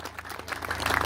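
A church congregation applauds during a sermon, a brief spell of crowd clapping that builds slightly in intensity, moderately distant and fairly soft.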